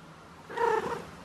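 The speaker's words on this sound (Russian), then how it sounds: "Извивается постоянно и мяукает" A female cat in heat gives a single drawn-out meow with a slight purring edge, moderately close in a quiet indoor room, with no talking.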